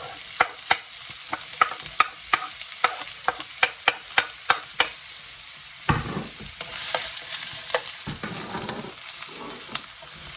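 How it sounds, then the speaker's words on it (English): Onions go into already hot oil in a pan for a Moroccan lamb tagine curry, first a quick run of sharp regular taps, then a louder burst of frying hiss with stirring scrapes, no voices. "So that's already nice and hot, so I can put the onions in straight away."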